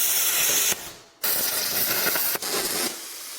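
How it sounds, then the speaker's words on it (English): A plasma cutter slicing through metal plate, a loud close continuous hiss and crackle that breaks off briefly twice during the cut and then resumes. "Now I'm going to trace this with my plasma cutter."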